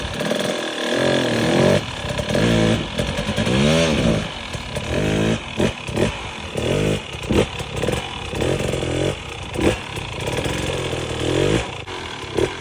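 Hard enduro dirt bike pulling away from a standstill in second gear on crumbly ground, its loud, close engine revving in rising bursts that surge and drop through the whole stretch, with no talk over it.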